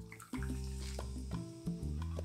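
Tonic water is poured into a cocktail glass in a close, steady gurgling stream with a brief pause partway through, and no voices.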